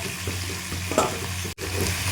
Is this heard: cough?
no